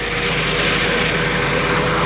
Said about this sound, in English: Now he's building his revs up.